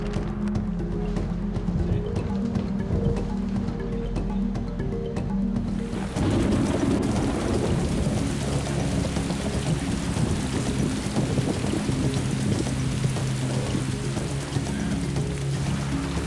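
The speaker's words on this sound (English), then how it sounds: "Top of the tarp is getting hammered with water." Heavy thunderstorm rain hammers a tarp in a loud, dense, continuous drumming that grows harsher after a few seconds, with wind buffeting and a low engine-like drone underneath.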